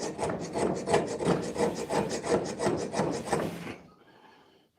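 A dagger blade is worked by hand with 120 grit abrasive, giving rapid rhythmic rasping strokes, close and steady for about four seconds before stopping abruptly.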